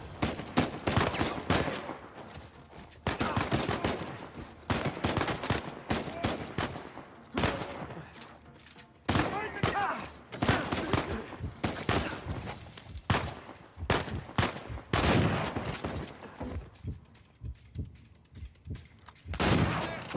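Sniper gunfire in Uncharted 4 rings out as repeated loud shots and dense bursts through the whole stretch, with heavy battle noise and a faint voice now and then.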